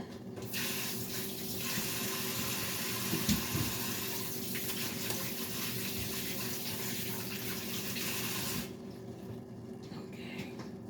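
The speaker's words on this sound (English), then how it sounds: "Wash my hands." Kitchen tap running steadily while hands are washed underneath, a close, continuous rush of water that cuts off sharply near the end.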